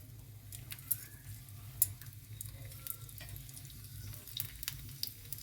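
Mustard seeds, cumin and chana dal crackling in a generous amount of hot oil for tempering a Roselle (gongura) pickle, a soft steady sizzle with scattered sharp pops, no talking.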